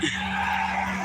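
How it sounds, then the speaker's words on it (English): Garbage truck passing close by on a road, a loud, broad rushing roar over a steady low engine hum, brief and continuous. "And that was a garbage truck, so I'm guessing it lost a bit of garbage."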